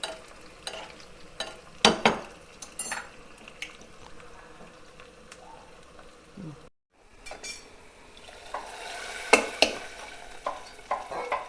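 A tempering sizzles and crackles in a pan while a spoon stirs and scrapes now and then, with brief metallic clinks and a short pause midway.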